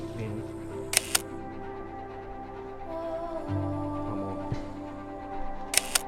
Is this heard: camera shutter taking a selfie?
yes